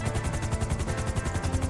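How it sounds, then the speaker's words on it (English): A police helicopter in GTA 5 spools up, its rotor throbbing in a fast, even pulse under a dense, steady engine whine, loud and close with no talking. "And yeah, very nice helicopter."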